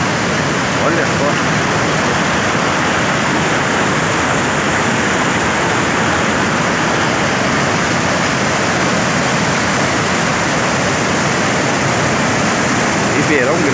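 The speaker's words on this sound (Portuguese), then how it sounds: "há muito tempo esse rio não chegava com esse volume de água" The Ribeirão Grande, flooded and swollen after rain, roars as a continuous, loud and close rush of water that stays steady throughout, with no clear speech over it.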